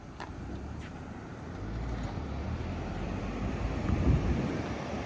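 A car driven round and round in circles outdoors, heard as a steady low engine rumble mixed with heavy wind buffeting the microphone, growing slightly louder toward the end.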